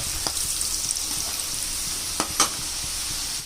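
Okra pieces for crispy bhindi kurkure fry in hot oil, giving a steady close sizzle with a couple of sharp pops and clicks, and no talking.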